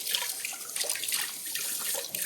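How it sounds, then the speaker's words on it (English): Tap water runs steadily into a sink while hands are washed after handling raw salmon, a continuous close hiss with slight splashy variation throughout. "I'm gonna wash my hand"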